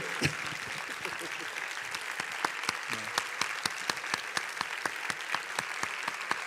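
Conference audience in Aragón applauding a research talk, the clapping thinning out so individual hand claps ring out in a fairly regular, close rhythm over a low murmur.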